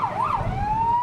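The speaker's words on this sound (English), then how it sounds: "while ambulances rushed victims to the hospital" Ambulance siren wailing during an emergency response in Ciudad Juarez, a loud rising and falling tone that then holds a steady pitch, with road noise underneath.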